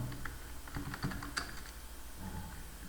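Typing on a computer keyboard while entering a sum function in an Excel spreadsheet, a brief irregular cluster of soft close key clicks over faint room noise.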